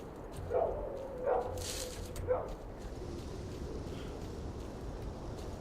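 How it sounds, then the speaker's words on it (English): A mutant pseudo dog in the game STALKER: Call of Pripyat gives three short, distant canine yelps spaced about a second apart, followed by a low ambient drone with no talking. "Oh, I can hear a pseudo dog."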